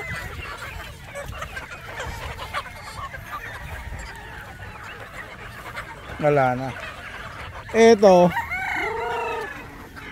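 A rooster crows loudly twice near the end amid steady clucking and chatter from chickens kept in a village yard, with people talking briefly over the flock.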